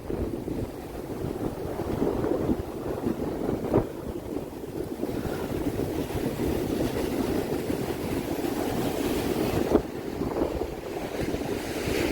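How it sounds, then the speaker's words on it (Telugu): Waves and flowing water at a beach roll on as a steady, broad wash throughout, with gusts of wind buffeting the microphone and no voices. "వాటర్ ఫ్లో ఎలా ఉంది చూడండి"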